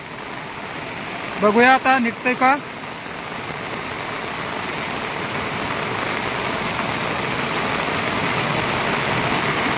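Heavy monsoon rain pours steadily during a village flood, a dense hiss that builds slightly over time, with someone speaking briefly near the start.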